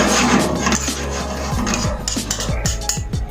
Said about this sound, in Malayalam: ഇനി ഇത് കുറച്ച് ഇളക്കി കൊടുക്കുക